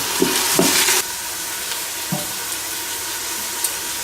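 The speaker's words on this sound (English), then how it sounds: "I would recommend not sticking your head directly over the Instant Pot while the onions are cooking" Onions frying in an Instant Pot, a steady broadband sizzle that is louder for the first second and then settles into a softer continuous hiss, with a few faint clicks and stirring knocks.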